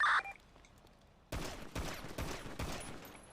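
In a video game, a burst of rapid gunfire rings out after a short quiet stretch, with several sharp shots in quick succession at moderate loudness and no voices.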